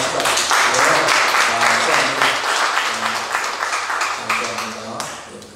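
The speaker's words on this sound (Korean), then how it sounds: "우리 박수 한번 받아갑시다." Congregation at a monthly gathering of retired Korean pastors in New Jersey claps together in a dense, lively burst that slowly thins, with a voice speaking over the applause.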